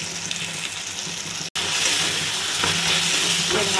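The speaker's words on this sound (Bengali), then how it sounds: "জিরে গুঁড়ো দিয়ে ভালো করে কষিয়ে নেব। এবার দিচ্ছি লঙ্কা গুঁড়ো," Cumin and chili powder fry in a pan for ghugni, a loud steady sizzle filling the clip with a brief break partway, stirring scrapes mixed in, no voices.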